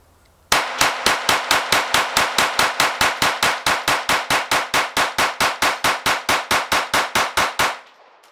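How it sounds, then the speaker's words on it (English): A KelTec CP33 .22LR quad-stack pistol fires a 33-round magazine dump with high-velocity ammo: an evenly spaced string of about thirty loud, sharp cracks over roughly seven seconds, outdoors and close, ending abruptly. "get it charged up, and do a 33 round mag dump"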